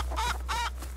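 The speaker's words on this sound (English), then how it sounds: "Gaggle of chickens." Chickens in the survival game Rust give two short, nasal clucking calls in quick succession, fairly close and clear over a low steady hum, with no talking.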